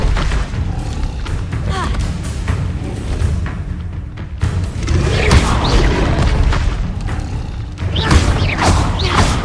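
Booming spell blasts from the Bombarda explosion spell in Hogwarts Legacy, several heavy crashes and thuds rolling one after another at close range amid magical combat clatter.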